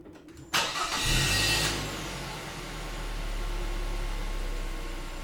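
A car engine cranks briefly and catches, roaring up loudly before settling into a steady low idle rumble, heard alone.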